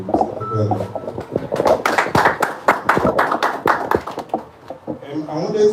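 A small audience at a painting-business talk gives a short burst of sharp, close hand claps in a rapid irregular rhythm, with voices talking around it before and after.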